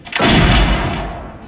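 A loud, booming gunshot from a John Wick film cracks out and rolls into a long reverberating tail, with no voices present.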